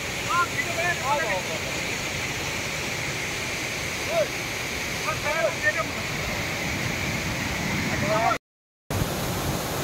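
Rushing water from a mountain waterfall by a swimming spot, a steady broad roar throughout with faint voices and squeals faintly over it.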